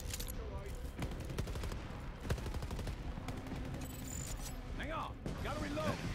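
Rapid gunfire bursts in the shooter game Shatterline, with quick volleys of shots and mechanical clatter close by, mixed with other game sounds and intermittent voice.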